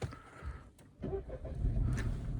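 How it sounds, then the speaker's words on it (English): A 2022 Opel Astra engine cranks and starts up close, a short whirr of the starter followed by the engine catching and settling into a steady low idle, with a faint jingle of keys. "do the check by starting up the car"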